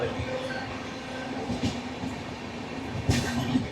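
A train rumbles past steadily with a low hum and faint rattling, a couple of louder clanks standing out near the end.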